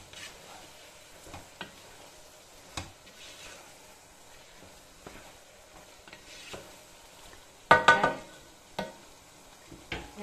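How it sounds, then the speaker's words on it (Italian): A spoon scrapes quietly around a pot of simmering ragù, making scattered soft knocks over a faint sizzle, with one louder burst of clattering scrapes near the end. "vado a girare comunque il nostro ragù"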